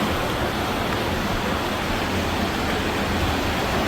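Small waterfall at Witch's Bathtub on a Wisconsin Dells boat tour, a constant broadband rush of falling water, loud and steady with no talk over it.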